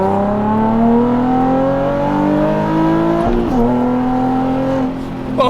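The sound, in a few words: Nissan 350Z Nismo 380RS engine while driving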